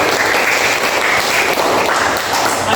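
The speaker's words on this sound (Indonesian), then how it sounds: "Ya, tepuk tangan." A classroom of students claps together during a teaching session, producing dense, steady applause that holds at an even level throughout with no pauses.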